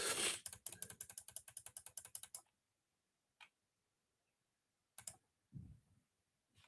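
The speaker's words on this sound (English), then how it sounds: "spin that wheel, shall we?" Random prize wheel spinning, a fast clatter of ratcheting clicks that slows and stops after about two seconds, followed by quiet and a few faint bumps, close and without speech.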